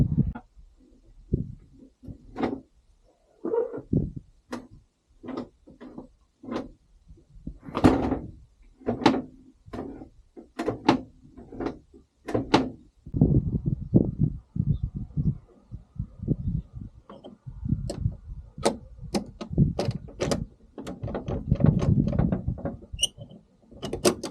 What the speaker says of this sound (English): When you close the door again, just make sure it's shut, push the handle down, and you'll see that it's fully closed.